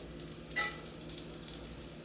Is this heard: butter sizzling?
yes